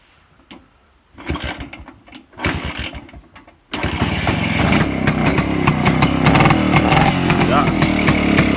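An old BSA Bantam motorcycle engine, run again after almost 40 years of rest, coughs through a few uneven attempts and then catches into a steady, loud, raspy idle, with people talking nearby.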